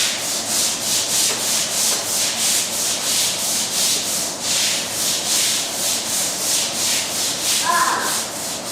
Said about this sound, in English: We gotta scrub the floor first.